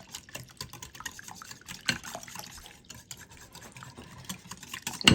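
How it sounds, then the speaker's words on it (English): Soft stirring of cream cheese in a crockpot for beef stroganoff, wet scraping and swishing strokes in an irregular rhythm, fairly quiet and close, with one louder knock near the end. "I'm just going to give that a mix. Like I said, just get it, that cream cheese broken up as much as possible."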